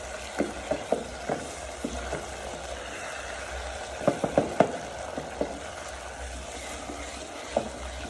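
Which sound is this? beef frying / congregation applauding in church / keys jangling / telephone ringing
beef frying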